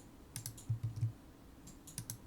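Computer keyboard keys pressed in a short flurry of close, soft clicks, about half a dozen taps in two clusters, with no voices.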